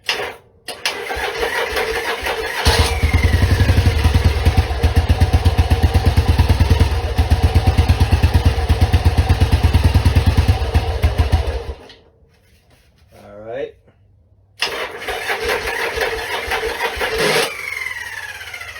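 Motorcycle engine cranked over with a little choke on a worn starter: a sharp click, then about nine seconds of loud, fast, laboring churning, a pause, and more grinding attempts that end in a catch and rough idle.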